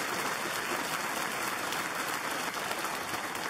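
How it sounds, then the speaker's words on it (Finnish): Studio audience applause on a Finnish car show after a lap on a track with tight bends, a steady, even wash of clapping from a crowd, continuous and fairly distant in level. "Antaa aplodit."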